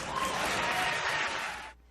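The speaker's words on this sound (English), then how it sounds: "You can applaud." An audience applauds during a talk on Islam, a dense, steady wash of clapping for nearly two seconds that cuts off abruptly near the end, leaving quiet room tone.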